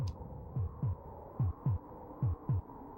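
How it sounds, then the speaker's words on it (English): Heartbeat in Populous on the SNES: loud, low, steady double thumps, about seven beats in three seconds, over a faint hum, with no voices. "I don't know why the heartbeat is getting so freaky loud"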